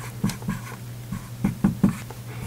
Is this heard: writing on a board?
yes